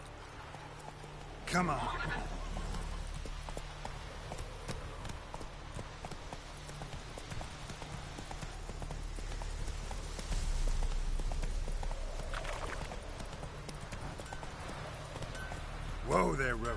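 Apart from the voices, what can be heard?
horse Roach trotting, video game The Witcher 3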